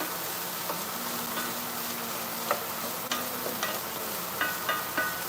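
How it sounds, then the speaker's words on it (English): Vegetables frying in a nonstick grill pan give a steady soft sizzle, with occasional scraping and clicks as they are stirred, close and without talk. "Give it another good stir. I'm feeling my veggies. They're starting to get a little softer."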